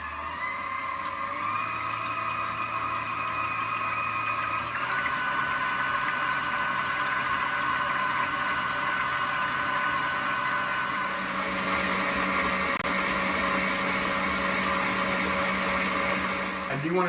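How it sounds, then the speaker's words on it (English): An electric mixer whisks heavy cream for a Christmas fruit salad with a steady, loud motor whir that runs throughout and shifts pitch partway as the cream thickens. A voice speaks over the hum. "Now we're going to turn this on and let it continue to whisk until that heavy cream becomes thick"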